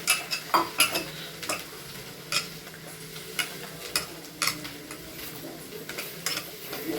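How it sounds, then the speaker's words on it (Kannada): Rice flour being mixed with water into roti dough in a small home kitchen, rhythmic scraping and tapping strokes against a bowl repeating every half second or so, close and moderately loud. "ಇವಾಗ ಇದಕ್ಕೆ ಸ್ವಲ್ಪ ಸ್ವಲ್ಪ ನೀರು ಹಾಕೊಂಡು ಮಿಕ್ಸ್ ಮಾಡ್ಕೊತೀವಿ"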